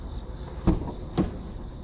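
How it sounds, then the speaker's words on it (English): Car door of a 2019 Ford Mustang GT Convertible opening, heard as two short, close mechanical clunks about half a second apart over a quiet steady background. "First of all, we open the doors"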